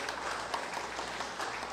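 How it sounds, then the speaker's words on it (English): An audience applauds the Vice Chancellor at a university centre launch, a steady, even roar of many hands clapping at moderate distance with no pauses. "Let's give a bigger round of applause to our Vice Chancellor"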